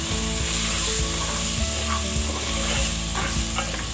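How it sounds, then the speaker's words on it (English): Beef pilau being stirred in a pot over reduced heat, a steady scraping and stirring with a soft sizzle running underneath throughout. "we are going to, you know, mix all that in"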